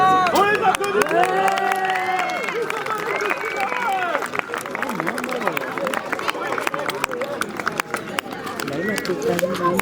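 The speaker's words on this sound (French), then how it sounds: "On les applaudit." Crowd at a witches' festival applauding and cheering fighters after a bout, steady clapping and hubbub throughout with a voice talking over it.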